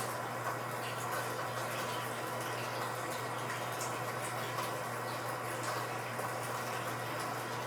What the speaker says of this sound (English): I like to give them a good rinse.